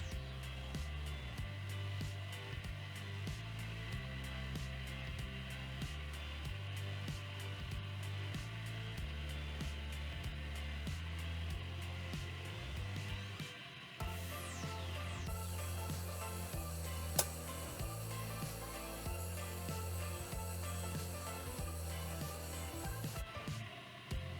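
A pasta machine cutter runs as fettuccine dough is fed through, giving a steady mechanical whir with rhythmic clicking and a brief shift in tone partway through.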